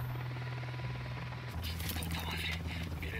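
A helicopter in the video game Ghost Recon Wildlands drones as a steady low rotor hum through the whole stretch, joined midway by scattered higher game noises, with no speech over it.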